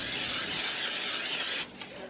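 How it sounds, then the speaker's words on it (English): Pam cooking spray hisses into a pan in a steady, close, loud burst lasting about a second and a half before cutting off sharply. "so I just spray some Pam"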